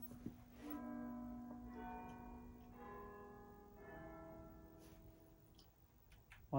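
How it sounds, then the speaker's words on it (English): Electronic bell chimes ringing from equipment on a workbench, several sustained tonal strikes layered and decaying over a low steady hum, moderately close and fairly quiet. "the bells are going off"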